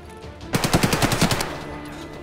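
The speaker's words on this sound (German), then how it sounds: "Ich baller mal durch die Tür" Rapid automatic gunfire in Escape from Tarkov, a burst of about eight close, loud shots fired through a door, then fading room tone.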